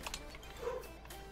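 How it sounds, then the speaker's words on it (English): A dog barks faintly and briefly in the distance in a Farming Simulator 17 game on the Sandy Bay map. "that's the dog barking about nothing."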